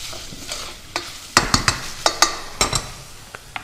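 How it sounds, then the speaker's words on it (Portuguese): A spoon stirring beef caramelizing in a pot, sharp scraping clinks in an irregular rhythm over a steady sizzle of frying meat, close and fairly loud. "Vou mexer aqui a nossa carne, que continua caramelizando."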